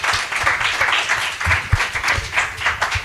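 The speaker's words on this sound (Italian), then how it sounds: "Un applauso a Pasquale" An audience applauds after a talk with slides: loud, steady clapping from many hands that continues throughout.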